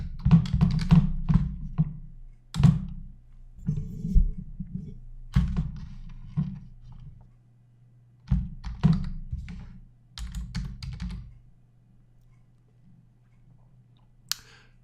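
Someone types a name on a computer keyboard in a quiet room, with bursts of close, clicky keystrokes separated by pauses and a soft low hum underneath.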